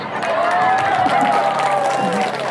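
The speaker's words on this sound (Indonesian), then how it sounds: "Tepuk tangan." An audience at a religious haul gathering claps together in a short, steady burst of applause, with a sustained tonal voice or hum running underneath.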